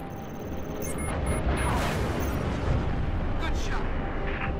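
Missile and gunfire explosions from Sabre fighters in a Halo Reach space battle roll together into a dense, continuous rumble with scattered bursts, loud and sustained, with voices faintly beneath.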